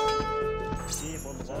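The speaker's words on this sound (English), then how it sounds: "Alright, ring the town bell." The town bell rings in the video game Age of Empires II, a steady metallic tolling over dense game music and effects.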